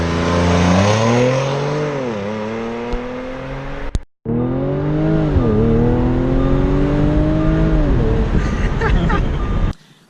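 An Audi S4 engine revs up and down twice with a droning intake resonance, loud and close, with a short cut between the revs.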